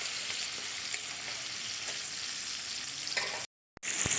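Tomato with fried whole-spice tempering and a pinch of salt sizzles in a pan for lau chingri, a steady close crackle that cuts out briefly near the end.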